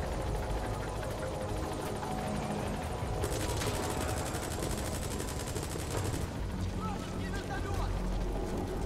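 Continuous helicopter rotor thumping in Metal Gear Solid V with rapid bursts of gunfire layered on top, dense and loud throughout, and faint voices in the mix.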